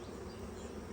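Honeybees buzz in an opened hive during an inspection, a close, steady droning hum that lasts the whole moment without any voices.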